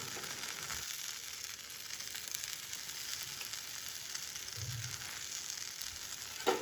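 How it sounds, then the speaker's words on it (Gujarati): Gujarati handvo frying in oil on its second side, a continuous even sizzle heard close and alone, with a small knock near the end. "તો આપણે શેકીશું બીજા સાઈડથી. આમાં લાગશે થોડું તેલ."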